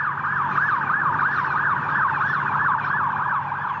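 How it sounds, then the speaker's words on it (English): Police car sirens wail continuously during a high-speed chase after a car weaving through traffic, a loud rising-and-falling siren cycling steadily over road noise with no talking. "police cars roared in pursuit, with sirens blaring"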